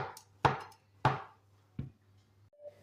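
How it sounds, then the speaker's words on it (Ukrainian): A knife chops mushrooms sharply on a board four times at uneven intervals, with a faint hum underneath and a brief tone at the end. "Ну от, мої хороші, я і скришила ті гриби."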